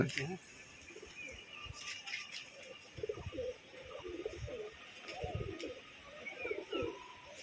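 A very old pigeon kept in a loft gives soft, intermittent coos among other pigeons, heard under ongoing conversation with occasional light clinks.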